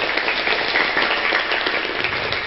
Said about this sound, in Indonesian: gue tepuk tangan